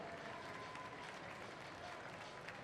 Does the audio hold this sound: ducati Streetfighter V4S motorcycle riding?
no